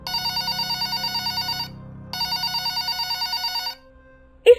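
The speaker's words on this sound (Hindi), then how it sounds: "उसके कानों में फोन बजने की आवाज आती है" A telephone rings in two long electronic trilling bursts separated by a short pause, clear and close, with a faint click at the end.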